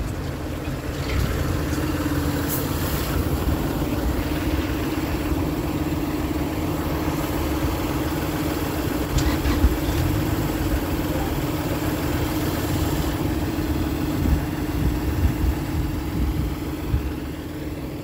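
A tractor engine idles in a wheat field, a steady low droning rumble holding an even level throughout, fairly close and continuous with no talking.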